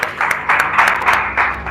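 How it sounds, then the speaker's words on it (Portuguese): A church congregation applauds in short swelling waves of clapping at moderate loudness, with faint voices mixed underneath. "Pode aplaudir o Senhor?"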